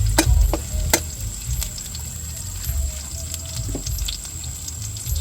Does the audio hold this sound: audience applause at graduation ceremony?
no